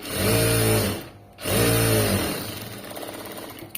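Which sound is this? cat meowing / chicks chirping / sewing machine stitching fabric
sewing machine stitching fabric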